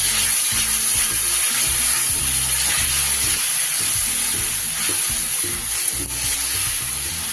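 Tomato paste sizzles and sautés in a hot pan for a Bengali vegetarian dhokar dalna, a dense, continuous frying crackle with low bubbling and soft stirring that stays loud and close throughout.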